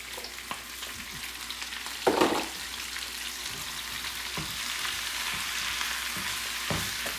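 Spinach and bok choy greens fry in oil with a steady, close sizzle, broken by a brief louder burst as more greens hit the pan and a few soft stirring knocks.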